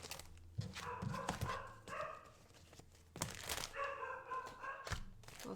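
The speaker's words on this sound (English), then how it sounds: "And of course, Cookie's barking." A dog barks several times at a distance, faint, mixed with a few soft knocks and thumps in a quiet room.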